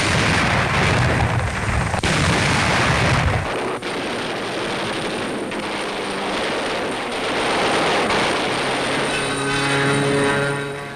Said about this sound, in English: an American carrier force was dive-bombed by Jap land-based aircraft